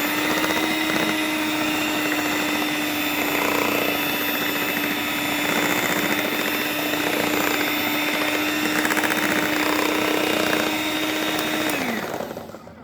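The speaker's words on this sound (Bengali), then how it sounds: "এবার এটাকে হ্যান্ড ব্লেন্ডের সাহায্যে ভালো করে আমি মিশিয়ে নেব।" A hand blender whirs steadily and loudly as it mixes semolina cake batter with an egg, a constant motor drone that winds down and stops just before the end.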